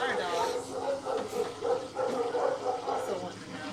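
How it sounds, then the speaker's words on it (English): Dogs bark and yip repeatedly at a middle distance, the barks overlapping with a steady background hum. "There's our dogs."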